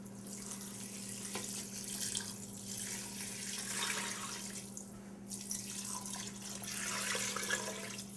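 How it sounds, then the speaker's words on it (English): Four cups of canned chicken broth are poured into a soup pot in a home kitchen, making a soft, continuous splashing trickle that swells and fades over several seconds and stays fairly quiet. "And this is just 4 cups of canned chicken broth. I'm going to pour it in there."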